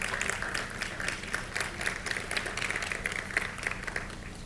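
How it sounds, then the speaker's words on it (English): An awards-show crowd claps steadily throughout, a dense patter of applause at moderate distance with no voices over it. "I think we need to give ourselves a round of applause"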